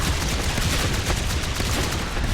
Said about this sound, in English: all the Marines are using shotguns, so, I mean, they are hitting the aliens